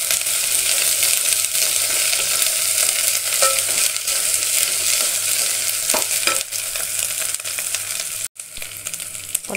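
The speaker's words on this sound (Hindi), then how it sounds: "अभी अपन अदरक लहसुन ब्राउन कलर है तक भून लेना अपन" Chopped ginger and garlic sizzle loudly in hot oil while being browned for a dhonde curry, a constant close crackle with occasional clinks of a stirring utensil against the pan.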